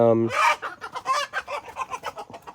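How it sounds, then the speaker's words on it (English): Loud rooster clucking and squawking in rapid bursts, close by, with a brief crow-like call at the start. "sounds like a rooster ruckus behind me"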